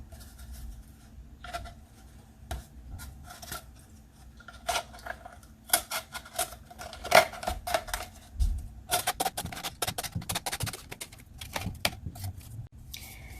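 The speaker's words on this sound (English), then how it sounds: "Cut up to that mark, or a little bit beyond it, and then cut across." Scissors cut paper for an egg craft, giving repeated close, crisp snips in irregular bursts that grow busier toward the end, with faint handling rustle and no speech.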